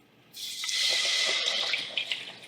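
Cashew milk pours into a cooking pot, a steady liquid splash that starts abruptly and runs for about two seconds, with a few drips toward the end and no talking.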